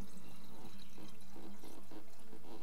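Trapped air burps out of a water line, releasing gurgling, bubbling water in irregular pulses, with rushing liquid noise running continuously throughout.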